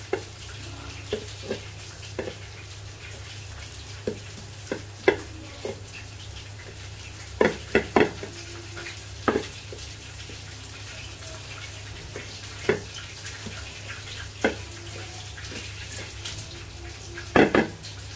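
Kitchen pan work while dried chilies and onions fry: steady low sizzle under repeated sharp clinks and scrapes of a utensil against the pan, with a few louder knocks near the end.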